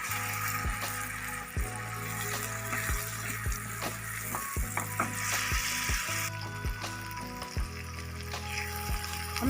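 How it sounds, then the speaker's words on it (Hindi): Eggplant bharta is stirred and fried in a pan, with regular scraping knocks from the utensil repeating every second or so over a soft sizzle and a faint steady hum. "अब हमने इसमें भरथा ऐड करना है, अच्छे से मिक्स करना है।"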